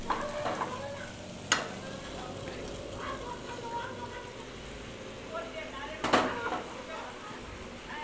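Paneer with its water tipped into sizzling masala in a pan: a steady frying hiss with stirring scrapes, two sharp metallic clanks of the utensil, and a voice speaking faintly underneath.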